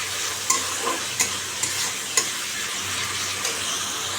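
Fish curry bubbling and sizzling in a pan on a home stove, a steady frying hiss broken by several sharp clinks of a spoon stirring against the pan, close and with no talk.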